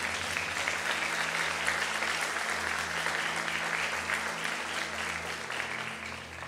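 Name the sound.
congregation applauding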